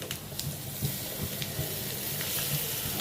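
Curry leaves, onion and dried chillies sizzle in hot oil in a pan, a steady close frying hiss with small crackling pops and occasional stirring clinks throughout.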